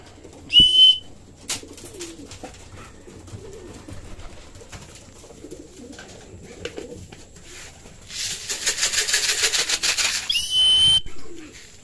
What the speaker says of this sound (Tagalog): Ay, rumondo pa yung isang ibon natin.